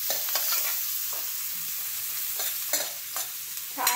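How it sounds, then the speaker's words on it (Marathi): Finely chopped medium onions hit hot oil with garlic in a pan and are stirred, giving a steady bright sizzle broken by occasional scraping stirs, close and without talk. "लगेच आपण इथे कांदा टाकायचा. दोन बारीक चिरलेले मीडियम साईजचे कांदे घेतले"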